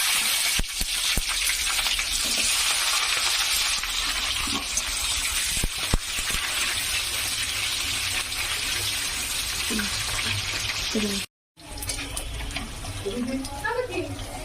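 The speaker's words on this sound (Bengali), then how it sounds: "পেঁয়াজটা ভাজা হয়ে গেছে" Onion sizzles in a pan for a mutton curry, a steady, dense hiss running nearly throughout with one short break, and some faint voices under it near the end.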